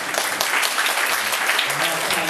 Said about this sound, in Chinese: 我们先热烈掌声先欢迎